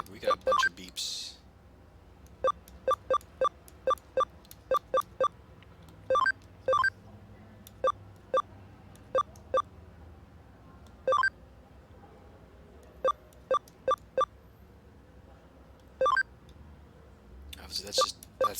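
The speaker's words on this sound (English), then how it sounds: "sounds like we got a bunch of beeps." Short electronic beeps from the Digimon Story Cyber Sleuth video game sound in quick, irregular clusters, sharp and clear, spread across the whole stretch with faint background sound between them.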